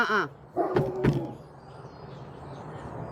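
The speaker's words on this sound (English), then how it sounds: "A car went by, he's got to bark at it." A dog barks a few times at a passing car, short sharp bursts close by over a quiet room background.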